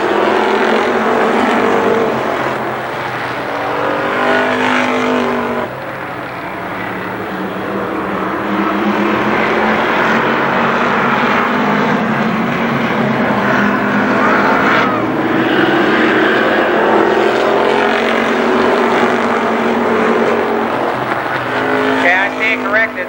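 Midget race cars racing at Columbus Motor Speedway in 1996, a loud continuous roar of engines with rising and falling pitch as cars pass close, sustained throughout the lap.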